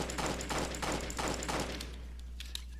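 Pistol shots in the Roblox game Jailbreak, about five evenly spaced muffled pops over a steady low hum, fading off toward the end.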